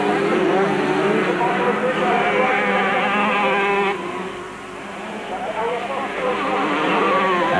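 Kawasaki motorcycles race on a track in the 1997 Total Super Series, giving a continuous high-revving engine whine that dips briefly and then rises again, loud and steady.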